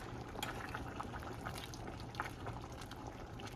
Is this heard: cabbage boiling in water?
yes